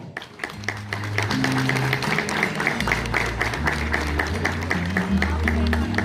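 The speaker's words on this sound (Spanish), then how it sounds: "Fuertes aplausos." At a school graduation ceremony, the audience claps steadily after a medal is presented, the sharp hand claps layered over sustained low music that continues underneath.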